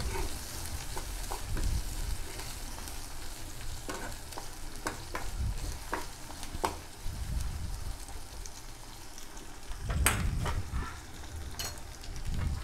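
Chopped onion, ginger, garlic and chilli sizzle softly in a pan while being cooked for chicken with capsicum, with occasional sharp stirring scrapes breaking through the steady frying hiss.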